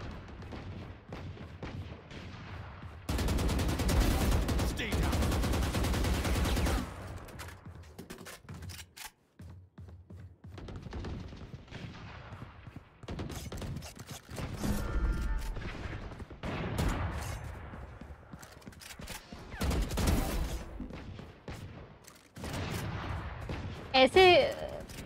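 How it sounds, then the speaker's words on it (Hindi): Bursts of rapid gunfire from the video game Valorant come in repeated volleys, some long and dense, others short, with brief quiet gaps between them. "ऐसे गोलियों की आवाज आ रही है जैसे तो वो खेल रहे हो."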